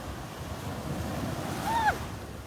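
Ocean waves wash ashore around someone wading in warm water at a beach, a steady close surf rush with wind buffeting the microphone and a short whistle-like voice near the end.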